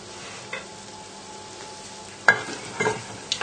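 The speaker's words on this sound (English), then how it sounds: "add the chopped rosemary straight in. And we'll just give that a little stir together" Chopped rosemary is stirred into butter melting in a pan, giving a gentle low sizzle under occasional sharp scrapes and taps of a utensil against the pan.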